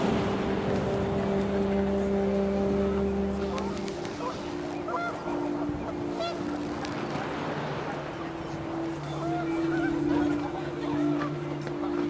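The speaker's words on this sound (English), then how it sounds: "The wind picked up, and panicked geese appeared and quickly went." Panicked geese honking in the What Remains of Edith Finch video game, several loud overlapping nasal calls close by over a wind-like background, briefly fading midway, then returning.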